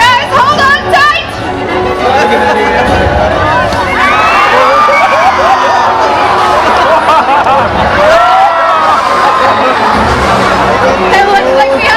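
A large crowd at a SeaWorld San Diego orca show cheers and shouts steadily, with children's excited voices and scattered high yells riding over a dense, loud wall of audience noise that keeps going throughout.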